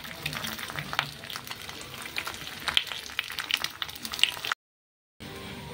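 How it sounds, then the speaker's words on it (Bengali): Two eggs fry in a hot pan with a steady, close crackle and sputter of oil, and brief sharp pops break through the sizzle before it cuts out abruptly near the end. "একসাথে আমি দুটো ডিম হচ্ছে পোস্ট করে নিচ্ছি"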